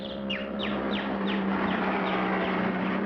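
A bird chirps repeatedly on a 1950s children's television show, a quick series of short descending tweets over a steady background hum, fading slightly as it goes.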